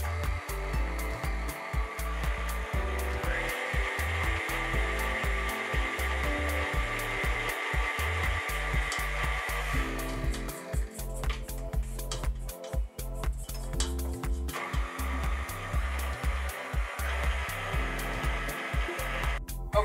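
A stand mixer fitted with a paddle churns pasta dough with egg for mushroom ravioli, a steady motor hum with rhythmic thumping as the dough turns, running continuously and close.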